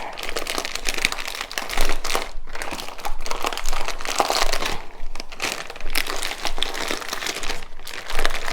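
A plastic bag crinkles and crunches continuously as hashbrown casserole ingredients are mixed inside it, close and busy, with rhythmic surges of squeezing and rustling and no talking.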